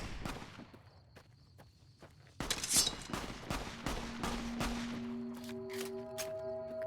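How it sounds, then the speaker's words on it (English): Gunfire in the video game Fallout: New Vegas, scattered sharp shots ringing out at moderate distance amid footsteps and game ambience, growing denser after the opening seconds. "someone's shooting at us"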